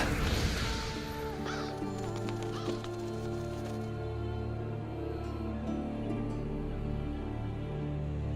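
Revoltures, black scavenger birds in the Monster Hunter: World game, give a few harsh caws over a sustained tonal music bed, with a louder burst at the start and no talking.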